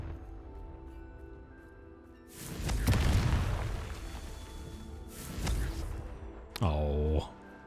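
A Confringo blast spell bursts in the Hogwarts Legacy video game, a heavy booming impact that rises suddenly and sustains over game background, followed by a second swell and a sharp ringing magical flourish near the end.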